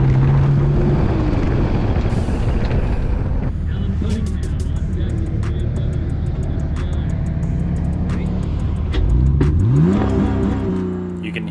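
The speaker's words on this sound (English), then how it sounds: "You can hear the stutter right there when the traction control stuck on a little too long." BMW E46 engine on an autocross course, stuttering and cutting out as traction control intervenes, with loud fluctuating engine drone, uneven bursts and a rising rev near the end, plus faint wind noise.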